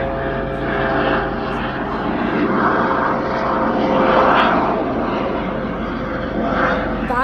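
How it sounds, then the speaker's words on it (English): A Royal Air Force helicopter drones steadily overhead, a continuous engine hum that swells slightly in the middle, with faint voices underneath. "There's a helicopter outside, look."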